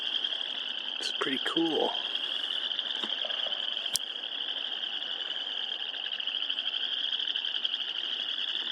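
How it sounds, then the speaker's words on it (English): A dense, steady chorus of frogs chirping on a pond in Madison, Wisconsin fills the whole clip, with someone speaking briefly near the start over the calls. "Lots of frogs chirping on this pond right now."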